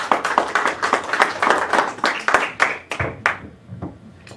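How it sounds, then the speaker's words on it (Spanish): Audience clapping for a guest speaker at a legal lecture on constitutional guarantees, a brisk burst of many hands that thins out and fades after about three seconds. "les pido un voto de aplauso para empezar la disertación."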